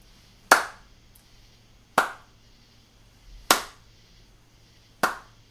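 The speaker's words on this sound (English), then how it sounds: "Let's listen to our first rhythm idea with an accented hand clap." Four single hand claps, evenly spaced and alone, alternating loud and softer, each sharp and close with a short ringing decay.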